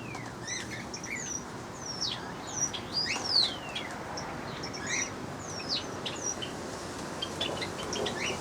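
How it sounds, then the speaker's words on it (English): Mixed aviary birds at a pheasant collection chirp and call in a steady chorus, with sharp tweets and whistles overlapping near and far, plus occasional wing flutters over a low outdoor background. "It's all birds now."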